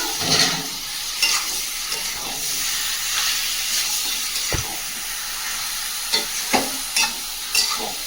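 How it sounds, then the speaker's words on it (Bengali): Meat dropped into spice masala that has been fried in a pan: a constant close sizzle and hiss, broken by loud clattering stirs and scrapes of the spoon at intervals, with no talking. "মশলাটা খুব সুন্দর করে ভেজে নিয়েছে আর সব তরকারি হয়ে গেছে মাংসটা হলেই হয়ে যাবে রান্না সম্পূর্ণ দেখাতে পারিনি মাংসটা দিয়ে দিচ্ছি"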